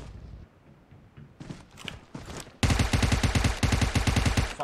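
Gunfire in the PUBG Mobile video game: after softer footstep-like thuds, a loud burst of rapid automatic shots begins abruptly and keeps up in a steady rhythm to the end.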